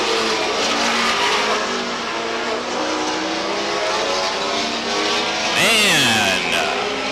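Race cars roar around the Star Speedway oval during a 5-lap heat, engines loud and continuous with a car sweeping past and a tire squeal near the end, under an announcer's commentary.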